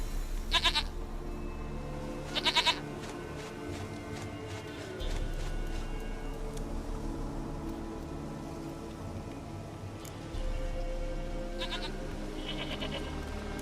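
A goat in The Witcher 3 game gives several short, fairly close bleats spread across the stretch, over a steady low ambient hum with faint rain-like patter.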